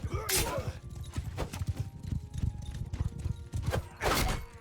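Horses galloping in the video game Mount & Blade II: Bannerlord during a battle with horse archers, a dense, rapid clatter of hooves with neighing and whinnying, fairly loud and continuous, with speech heard over it.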